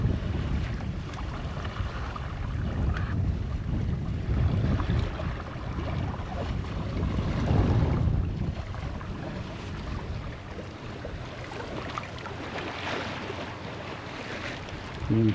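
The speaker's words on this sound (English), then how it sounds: "Got some wind." Wind rushes past a sailboat at sea near the Dodecanese Islands, a continuous blustery roar with surging gusts and faint water wash, buffeting the microphone, with no talking.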